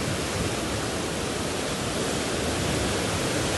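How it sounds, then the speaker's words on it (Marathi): At Bhandardara, water from two streams plunges together down a powerful waterfall, a loud, unbroken broadband roar with no voices over it. "या ठिकाणी बघू शकता दोन ठिकाणून पाणी येतंय आणि जे एकत्र खाली पडतंय"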